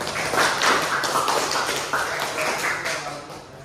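Classroom applause from students after a group presentation: steady, dense clapping from many hands, fairly close and filling the room, tapering slightly toward the end.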